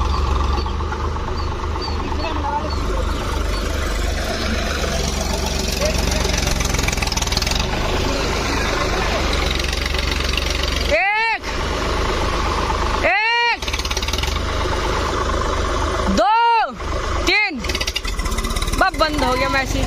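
A tractor engine runs steadily in second gear with a deep low drone. A person talks over it, and a few loud sweeping tones cut through near the end.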